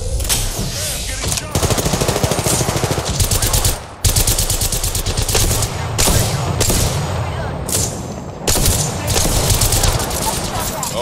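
Rapid automatic gunfire in an Apex Legends match comes in repeated loud bursts and sharp volleys with short pauses between, while players talk over the shooting.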